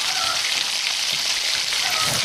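Tomatoes and curry leaves fry in a small clay cooking pot, a steady, close, hissing sizzle that holds evenly throughout with faint crackles underneath.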